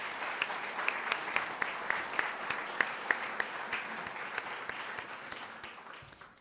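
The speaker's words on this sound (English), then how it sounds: "Please join me in another round of applause for Amy Little." An audience at a city meeting claps for a guest, a moderately loud patter of hands with distinct sharp claps standing out, gradually thinning and fading toward the end.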